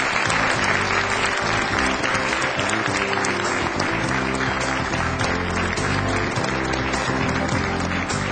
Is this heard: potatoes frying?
no